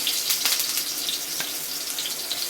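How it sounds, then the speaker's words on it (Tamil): Fish fillets laid in a line over curry leaves sizzle steadily in a hot pan, a continuous hissing crackle at close range with a few small pops and no talking. "இந்த பக்கம் மீன் வறுவல் பண்ணிடலாம்"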